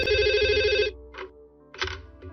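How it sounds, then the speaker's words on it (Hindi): A telephone rings in a Hindi-dubbed Doraemon cartoon: one long trilling ring, then two shorter bursts after brief gaps, clear and close with no talk. "इस फोन को भी अभी बजना था।"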